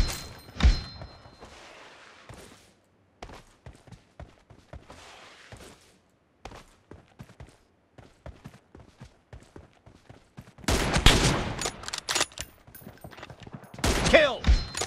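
Gunfire in the PUBG Mobile battle royale game during a 1v1 room match: scattered sharp shots and thuds throughout, with dense louder bursts of rapid fire near the end, no talk.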